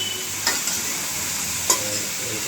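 Radish being stirred in a pan over the heat, a soft continuous sizzle broken by two brief scraping strokes of the spoon, with no talk.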